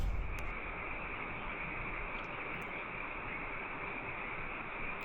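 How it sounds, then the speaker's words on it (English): Insanely loud frogs croaking at night near a river along the Pacific Coast Highway, a dense, steady chorus filling the whole clip without pause and without any voices. "frogs"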